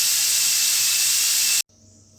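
Steam hisses steadily and loudly from an idli steamer on a gas stove. The hiss stops abruptly after about a second and a half, leaving a quiet background.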